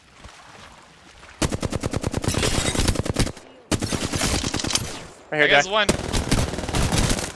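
Video game gunfire: several loud strings of rapid automatic shots, each burst cutting off sharply before the next begins. Someone talks briefly between them.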